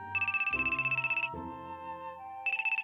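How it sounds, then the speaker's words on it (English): Phone ringtone playing a bright, pulsing electronic trill that alternates with a lower sustained tone, repeating in bursts, close and clear with no talking. "my phone rang"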